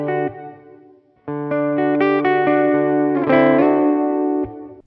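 Electric guitar chords ring through a Catalinbread Softfocus reverb pedal, loud and sustained with a warm wash of reverb; a short note, a pause, then a long strummed passage with the chord shifting near the end.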